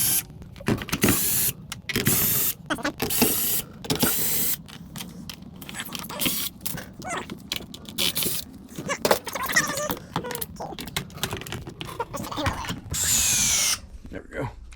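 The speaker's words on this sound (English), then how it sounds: "Next, we're going to remove the screws." A power screwdriver backs out the screws holding the housing of a leaking Bissell steam mop, in loud, close, repeated whirring bursts separated by short pauses and the clink of handling.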